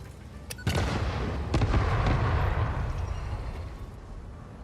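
Pipe bombs blow up in Satisfactory: a sharp crack opens into a heavy rolling boom, followed by a second blast and a long rumbling tail that fades slowly, with no talking.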